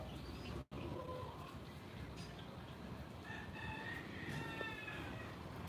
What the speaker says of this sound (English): See the little chickens.